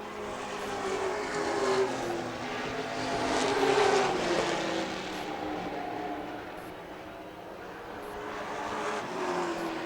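Late model stock cars race closely side by side near the end of a feature, their engines blending into a steady, loud roar that swells and fades as the pack passes, with no voices.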